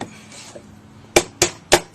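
Three light, sharp metallic taps of a lead hammer on a .22 LR cartridge case, evenly spaced and close, each a crisp click with a short ring after a quiet lead-in.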